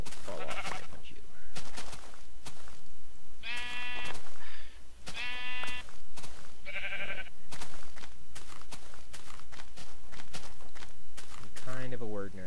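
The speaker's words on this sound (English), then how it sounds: "Sheep! Sheep, sheep." Sheep in Minecraft bleat several times in short wavering calls amid footstep-like clicks and game sounds, while a person talks throughout.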